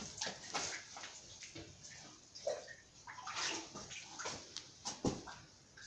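Water runs and splashes into a small fish pool being stocked with carp in Bodrum, a faint, uneven sloshing and trickling close by.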